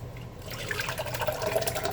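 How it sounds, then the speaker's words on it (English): Ice cream mixture poured into an ice cream maker, a quiet background that gives way to a soft, close, continuous liquid stream with light splashy gurgles as it fills. "I'm just going to pour it now into my ice cream maker."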